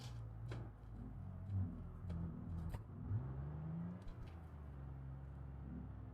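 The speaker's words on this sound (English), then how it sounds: "It's got the dual exhaust, I assume it is." A V8 car engine with dual exhaust, driven in BeamNG career mode, hums low and revs in a few rising surges, with scattered clicks and knocks over the steady drone.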